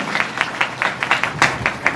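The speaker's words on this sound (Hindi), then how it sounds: "ताली बजाओ" Rhythmic clapping from a seminar audience, a quick series of sharp, evenly spaced claps that sound close and fairly loud, with no talking over them.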